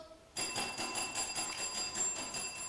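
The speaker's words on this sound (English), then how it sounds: "Ring the bells." A bell rings in rapid repeated strokes after a short quiet start, its bright metallic tone sustained and fairly distant.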